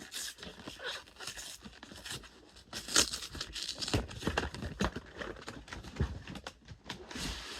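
Cardboard and plastic packaging of a Pokémon Prismatic Evolutions figure box is torn and crinkled open, close-up, with scattered tearing and scraping noises coming in irregular bursts.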